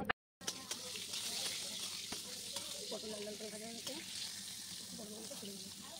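Pointed gourd fries in oil in a wok with a steady, moderately loud sizzle and light stirring scrapes, and a voice is faintly heard partway through.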